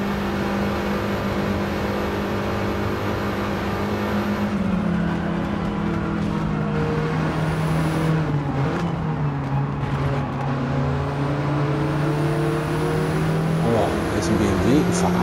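Tuned Mini Cooper engine in a racing video game, a steady droning hum with gear-shift pitch changes as it drives flat out, under someone talking.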